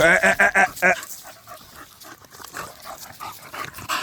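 Bully breed dogs pant and grunt while playing, with a quick run of sharp barks or yips at the start, then softer snuffling and breathing close by.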